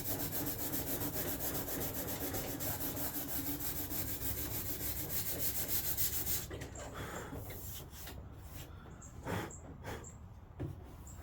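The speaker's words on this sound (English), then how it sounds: "So now I'm going to get my 180 grit sandpaper, and you just pretty much run along the top of the surface on it and blend it in." A faded, damaged carbon fiber vented hood for a G35 is hand-sanded with 180 grit sandpaper, giving a steady, continuous rasping rub for several seconds before it thins into short, scattered scuffs and knocks.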